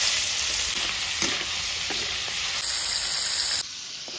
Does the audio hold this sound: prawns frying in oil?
yes